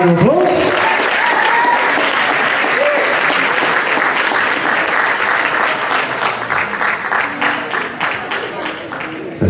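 Sustained loud applause from a ballroom dance competition audience as junior couples come onto the floor for a Latin round, steady and dense throughout with some voices mixed in.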